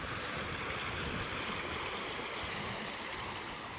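A river flows steadily in a wild Scottish bothy setting, a continuous broadband rush of running water held at an even level throughout, with no voices.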